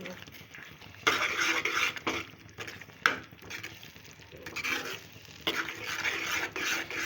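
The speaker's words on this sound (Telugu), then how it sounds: "ఇప్పుడంతా గోంగూర అంతా వేసాను ఇప్పుడు చక్కగా కలుపుకున్నాను అంతా" Gongura and prawn curry being stirred in a pot, the spoon scraping and mixing in several uneven bursts of a second or two, with quieter gaps between and a cough or throat sound near the start.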